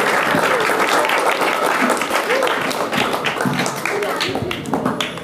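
An audience at a motivational supercamp claps steadily as a speaker is welcomed, a close, dense patter of applause that fades slightly toward the end.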